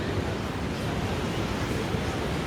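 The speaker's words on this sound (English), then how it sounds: "Super high waves out here" Steady, loud roar of high ocean surf on a Costa Rica beach, a continuous broadband wash of breaking waves with no distinct individual crashes, filling the whole moment without talk.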